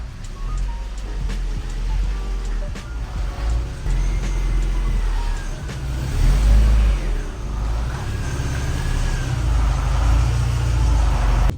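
A VW Passat B4 fitted with a swapped-in 2.0 AGG engine drives its first few meters, a steady low engine rumble with varying load running throughout, close and fairly loud, with no talk over it.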